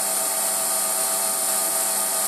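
Steady high-pitched motor whine of an Emco Compact 5 CNC lathe with a drill in the chuck, running at constant speed, loud and continuous with no variation.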